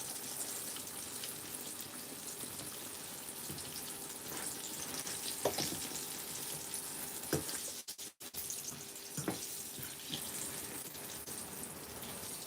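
A quiet, continuous sizzle of eggplant frying in oil, with a short clatter partway through and no voices.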